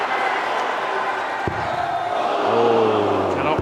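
A crowd at a PDC World Matchplay darts quarter-final against Joe Cullen erupting into a frenzy, with loud sustained roaring and a few sharp bangs and rising chant-like tones near the end.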